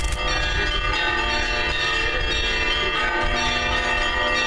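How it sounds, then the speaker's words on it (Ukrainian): Large bells of Kyiv's Saint Sophia Cathedral ring continuously in a dense, overlapping Christmas morning peal, sustained and resonant throughout with no talking. "Вранішній передзвін Софійського собору кличе на святкову різдвяну літургію"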